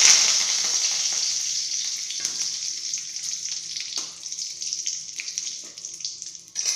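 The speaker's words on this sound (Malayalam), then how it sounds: "കടുക് ഇപ്പം പൊട്ടിയിട്ടുണ്ട്, നമുക്ക് വേണ്ട വറ്റൽമുളകും കറിവേപ്പിലയും കൂടി ഇട്ട് കൊടുക്കാം." Dried red chillies and curry leaves sizzling in hot oil after mustard seeds have popped, a bright steady hiss with a few soft knocks of stirring, fading slightly over several seconds.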